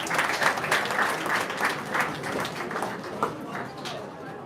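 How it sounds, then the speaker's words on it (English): An audience at a school tech event claps for the top 20 finalists, a dense round of applause that carries on steadily and eases off slightly toward the end. "So big round of applause again for each and every one."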